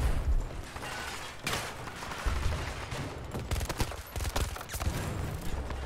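Battlefield 2042 gunfire: bursts from a burst-action rifle crack out in quick clusters over steady battlefield noise, with several sharp shots toward the end.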